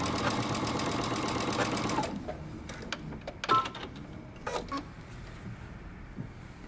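Sewing machine basting across the top of a pocket: about two seconds of close, steady, rapid stitching, then it stops and gives way to scattered handling clicks and fabric rustles.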